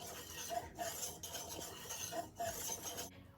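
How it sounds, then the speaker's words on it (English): A whisk scrapes and rattles steadily around a large bowl of flour and salt, a continuous rasping stir with rhythmic clinks against the sides, close up and with no talking. "give it a quick whisk until it's well incorporated"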